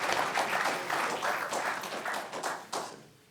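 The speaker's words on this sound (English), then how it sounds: "Bill, everybody should be clapping in the room Yeah. for you." Several people in a community meeting room clap, distinct hand claps of moderate loudness that fade out near the end.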